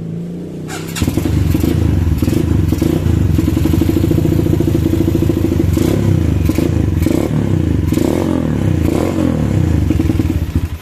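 Kawasaki KLX 150 trail bike fitted with a BRT Power Max dual-band CDI and PWK 28 carburettor starting up after about a second, then idling loud and steady with a rough, rapid exhaust rhythm and a few brief revs, no voices.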